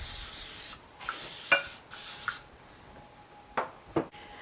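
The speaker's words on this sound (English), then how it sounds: "I'm going to spray this with some oil on the bottom and the sides" Several short hissing bursts of oil cooking spray into a casserole dish, a few longer sprays then quick spurts, close up with light clattering between them.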